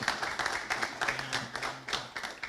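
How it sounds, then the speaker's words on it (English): Faint, quick clapping from a small audience at an outdoor community forum on hard courts, a short burst of scattered claps for a speaker. "So give him a round of applause. That deserves a clap."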